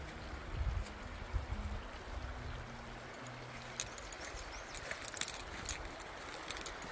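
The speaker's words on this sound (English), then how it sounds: "there is a little creek down there" Soft, steady rush of a flowing creek with faint trickling, heard outdoors at a campsite at a moderate distance with no voices.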